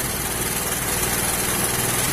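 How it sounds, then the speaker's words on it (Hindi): Honda CD 70 motorcycle engine running steadily during carburettor tuning at home, a close, loud, continuous buzzing drone with even rapid firing pulses and no talk. "जब इंजन के आरपीएम बढ़ेंगे तो ज़ाहिर है कि इंजन की जो स्पीड है इसकी वाइब्रेशन है वो ज़्यादा हो जाएगी"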